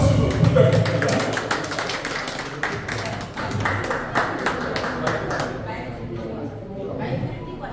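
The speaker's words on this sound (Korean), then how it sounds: "힘찬 박수 부탁드립니다" Audience applause at a political school workshop event, a burst of clapping that fades into scattered taps over several seconds, with murmuring voices and speech underneath.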